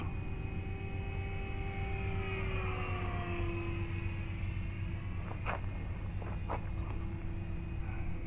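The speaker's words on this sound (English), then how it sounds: "Nice and smooth flying airplane." FMS Ranger RC model airplane in flight, a steady electric motor drone gently shifting in pitch as it passes, fairly faint at a distance, with a few brief clicks near the end.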